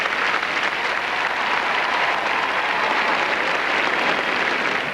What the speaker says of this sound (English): The 21-year-old receiving a nice standing ovation from some of the crowd here up in the upper recesses of this arena